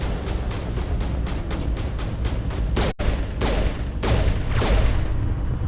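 Mass Effect gunfire rattles as a rapid, loud burst of evenly spaced shots. After a brief gap, heavier irregular shots follow, with no talking.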